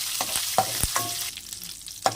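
A brief burst of mustard seeds, cumin, black gram dal and curry leaves sizzling in hot oil in a kadai, with sharp crackles and pops over a hissing bed.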